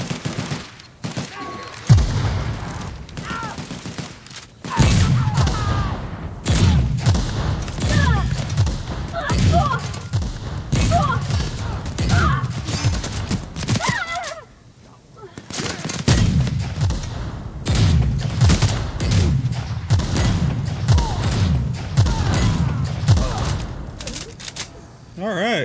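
Grenade launcher fire in The Outer Worlds, heard as loud repeated blasts and bursts in irregular clusters over about 25 seconds, with brief lulls between volleys and a busy battle din throughout.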